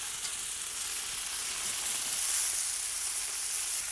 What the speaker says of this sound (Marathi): आपण सगळे वांगे ठेवून घेतलेत तव्यावर